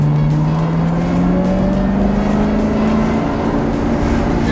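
A sports car accelerates hard, its engine note climbing steadily in pitch over a loud, constant road and wind roar.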